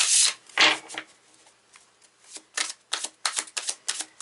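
Tarot cards are shuffled by hand, a couple of sharp riffling bursts followed by a quick run of rhythmic flicking and tapping, close and fairly soft.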